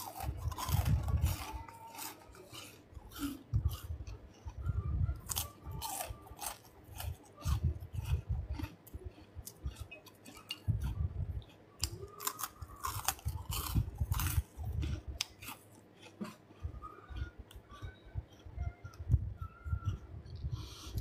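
Egg-free, dry onion cheese crisps (kerepek bawang cheese) are crunched and chewed close to the mic, with irregular crisp bites and snaps continuing throughout and no talking.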